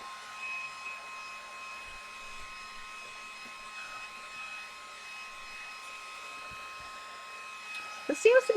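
Heat gun drying paint on a lamp shade, a steady whirring blow running throughout at moderate level, with a brief voice breaking in near the end.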